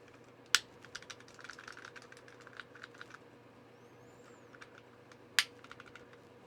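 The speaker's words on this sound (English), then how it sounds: "the rattle is definitely pretty intense for some of the Stabarinos" Mechanical keyboard fitted with POM Holy Panda switches, typed on in a steady run of close clicky keystrokes with rattling stabilizers, plus two sharper louder key strikes, no talking.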